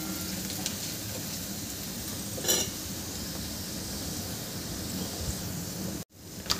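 A pan of sprouted fenugreek seed curry sizzles steadily while spices are stirred in, a soft continuous frying hiss with one brief scrape near the middle and a short break toward the end.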